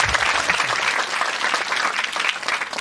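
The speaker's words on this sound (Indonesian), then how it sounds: "Tepuk tangan dulu buat diri kalian." A youth group claps for themselves at a Christian youth gathering in Sibayak, producing a steady, even round of applause that carries on without a break.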